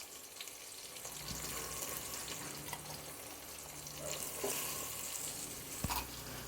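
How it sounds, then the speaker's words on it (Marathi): Chopped onion frying in hot oil in a pan for chicken yakhni, a steady close crackling sizzle with occasional small pops, no voices. "आता त्या तेलामध्ये हा जो कांदा आपण कापून घेतला होता ना"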